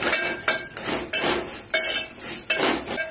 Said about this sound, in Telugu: సేమియాను కూడా దూరంగా వేయించుకోవాలండి, మారితే బాగుండదు